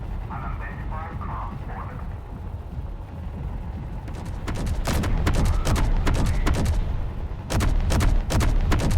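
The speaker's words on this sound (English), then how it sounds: "Ooh, that was a big explosion." Gunfire and explosions in Space Engineers: after a quieter stretch with some talking, a rapid series of sharp, loud bangs rings out in bursts over a rumbling background.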